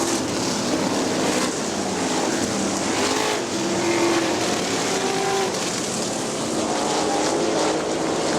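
Outlaw super sprint race cars roar around the Butler dirt oval in 2002, their engines blending into a continuous loud drone with several rising and falling pass-bys as the cars sweep past.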